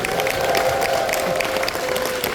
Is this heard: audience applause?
yes